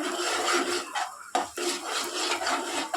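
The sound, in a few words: spatula chopping fried eggs into small pieces in pan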